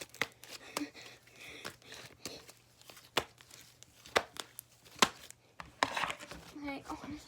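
Slime is mixed by hand, making irregular wet squelches, slaps and crinkly pulls close by, with sharp bursts of sticky popping.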